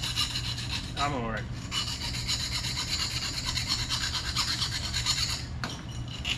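Hand reaming inside a steel exhaust pipe on a 1972 Dodge Challenger, a close, steady rasping scrape that runs continuously with brief pauses, and a voice gives one short word.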